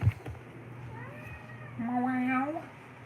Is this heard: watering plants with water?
no